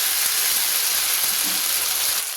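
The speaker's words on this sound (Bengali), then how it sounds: "দিয়ে আমি একটু ভালো করে তেলের মধ্যে কষিয়ে নিচ্ছি, যাতে আদার কাঁচা গন্ধটা চলে যায়" Ginger paste fries in hot oil with a steady, loud sizzle and hiss, close up and unbroken, and no voice is heard.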